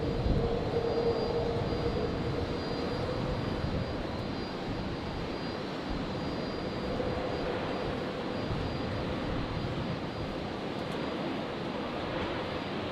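An airliner lands at Brisbane Airport, its jet engines a steady broad roar holding at constant loudness from a distance throughout, with no talk.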